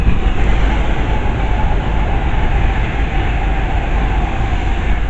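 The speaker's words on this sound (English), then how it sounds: "there's a Pendo coming through from Glasgow to London." A Pendolino express passes on the fast line, making a loud, steady rumble and roar of wheels on rails that holds for several seconds with no speech.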